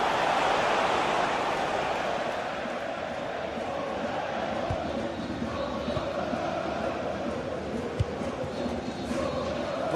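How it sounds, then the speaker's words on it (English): A stadium crowd roars continuously in a football video game, a broad, steady wash of cheering that stays loud and even throughout, with a commentator's voice faintly woven in. "The crowd certainly think so. Just listen to them."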